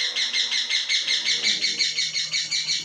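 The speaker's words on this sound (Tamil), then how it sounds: "கிளி கத்துது." A parrot calls over and over in a steady, rhythmic series of shrill, harsh squawks, fairly loud and close, with no talking.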